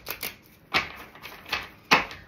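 A deck of cards is riffled and shuffled in several quick, crisp bursts, close by, with soft rustling between them and no voices.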